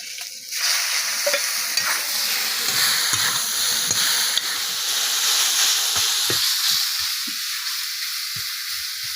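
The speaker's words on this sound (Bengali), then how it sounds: "এই যে সিমটা ঢেলে দিলাম" Green beans tipped into a hot pan with garlic hiss and sizzle loudly, a bright frying crackle that settles into a steady sizzle with occasional stirring clatter, no talking.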